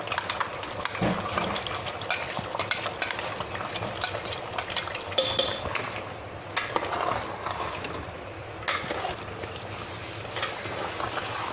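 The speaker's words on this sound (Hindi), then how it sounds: "तीन मिनट तक काजू डाल के भून लो अच्छे से।" Cashew paste is fried and stirred in a pan for chicken korma, giving a steady low sizzle under frequent scraping and clinking of a spoon against the pan, heard close with no talking.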